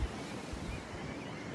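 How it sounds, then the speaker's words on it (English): Strong wind gusts outdoors during a walk, roaring steadily and loudly against the microphone with a low buffeting rumble throughout. "Like I say, it's quite windy."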